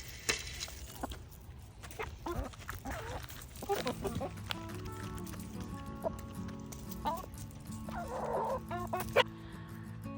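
Backyard chickens on a small hobby farm clucking outdoors: scattered short clucks and calls that come and go at a fairly faint level over low background noise.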